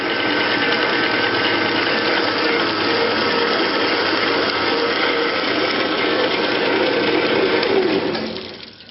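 Saw cutting through steel clamped in a vise during blacksmith work, a loud continuous grinding drone that holds steady for most of the stretch before fading at the end.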